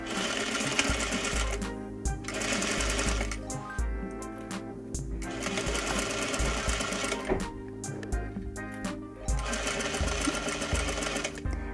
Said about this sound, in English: Sew your darts from the top edge of your back piece along the lines that you drew.